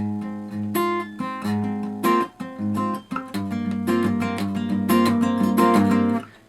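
An acoustic guitar plays a chord shape with thumb and first finger alternating, giving a close, bright fingerpicked pattern of bass and treble notes in a quick, bouncing rhythm, with no talking.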